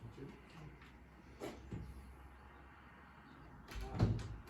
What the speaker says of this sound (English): Close your door again.